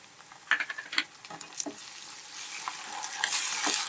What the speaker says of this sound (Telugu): అల్లం వెల్లుల్లి పేస్ట్ వేసేస్తాను